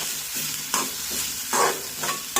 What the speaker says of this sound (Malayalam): കടു ഇട്ട് കൊടുത്ത് നന്നായി ഒന്ന് വഴറ്റിയെടുക്കാം